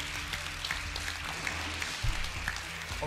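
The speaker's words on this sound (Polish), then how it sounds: "Oklaski, będzie oklaski gong." Audience applause during a studio show, a steady patter of clapping hands at moderate volume that continues through the whole stretch.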